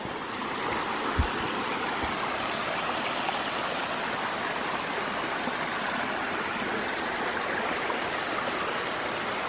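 Stream water rushing steadily near Crabtree Falls, a continuous broadband wash that stays close and loud throughout with no talk, plus a couple of brief low thumps early on.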